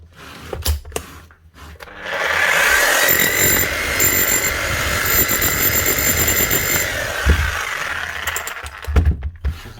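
A repaired electric hammer drill runs steadily for several seconds, a loud continuous buzzing clatter starting after brief handling noises and stopping near the end.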